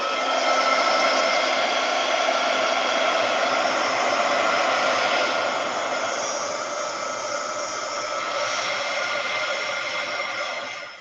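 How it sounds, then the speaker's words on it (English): A heat gun blows steadily for about eleven seconds while drying a painted mixed media journal page, giving a loud, close, even whooshing hum with no talk. "let me dry this up, see how it looks. Heat gun alert."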